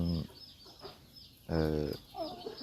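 Chickens in a Thai backyard coop, a gamecock bloodline, give a few short clucks and calls in bursts near the recording point, with no speech over them.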